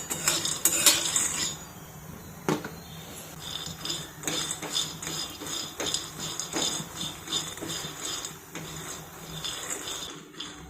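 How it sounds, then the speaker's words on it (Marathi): Peanuts dry-roasting in a hot kadhai over full gas flame, stirred steadily with a metal spoon, giving continuous scraping and clinking rattles with sharp metallic taps, close and busy, with no talking. "अगोदर फुल गॅसवरती शेंगदाणे भाजून घेऊ"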